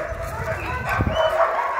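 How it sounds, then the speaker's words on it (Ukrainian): Dogs bark and yip in a small zoo in Znesinnia park in Lviv, the calls moderately distant and mixed with nearby voices. "Щось там собачки розгавкалися."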